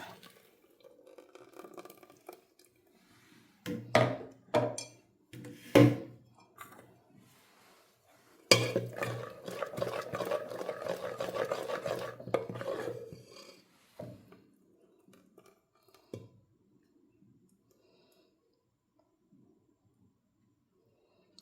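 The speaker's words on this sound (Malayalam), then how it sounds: "ഈ അരച്ചെടുത്ത മാവ് നമുക്കൊരു പാത്രത്തിലേക്ക് ഒഴിച്ചിട്ട് അവിടെ മൂടി കൊടുക്കുക" Ground rice batter for vattayappam is poured into a vessel and covered: a few sharp clinks and knocks, then several seconds of wet, splashing pouring, a final lid-like clack, and quiet. Nobody speaks.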